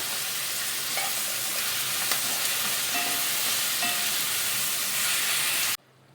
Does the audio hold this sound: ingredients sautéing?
yes